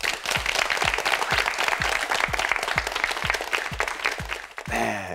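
Studio audience on a Korean TV word quiz show applauds steadily for about five seconds, a dense close wash of clapping with a few rhythmic low thumps, then a brief musical sting at the end.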